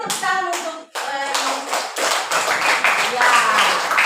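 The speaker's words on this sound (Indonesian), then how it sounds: "Semua tepuk tangan untuk" Students in a classroom clap their hands together in quick, loud bursts under lively voices, with brief gaps between the rounds and talking continuing through the clapping.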